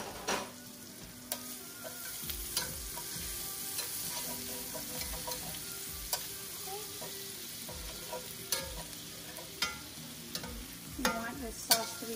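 Butter sizzles and crackles in a pan for a creamy lemon garlic salmon sauce, a faint steady hiss dotted with small pops and stirring clicks, with no talk.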